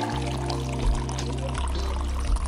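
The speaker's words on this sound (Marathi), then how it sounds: "सो कैऱ्या धुण्यासाठी मी कैऱ्या बाउलमध्ये घेतल्यात आणि त्याच्यामध्ये आता मी पाणी टाकतोय" Water pours steadily from close by into a bowl of raw mangoes, a continuous trickling splash with no talking.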